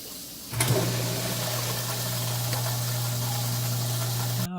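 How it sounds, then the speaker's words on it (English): An InSinkErator garbage disposal runs with water flowing through it, starting abruptly with a loud clunk and then holding a steady, close motor hum under rushing water for about four seconds before cutting off. "We're going to run some water through it and turn it on."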